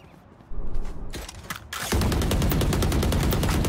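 Rapid automatic fire from a Stinger submachine gun in Valorant, a few opening shots and then a dense, loud, continuous burst of rattling gunfire.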